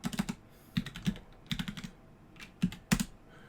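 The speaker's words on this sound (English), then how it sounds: "I'll just type in" Keys tapped on a computer keyboard in short, uneven bursts of crisp clicks, close and fairly quiet, with brief pauses between runs of typing.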